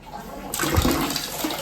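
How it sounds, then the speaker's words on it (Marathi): Hot water gushes steadily from a tap, a broadband rushing splash that starts abruptly and keeps flowing, close and fairly loud. "गरम पाणी आलेलं आहे"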